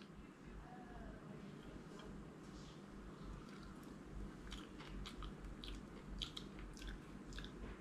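Someone chewing and biting into a bitter melon (bitter gourd) omelette, with soft crunchy mouth clicks and wet chewing sounds close to the mic over a steady low background hum.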